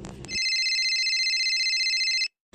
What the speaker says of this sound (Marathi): थांब हो, फोन आलाय, थांब जरा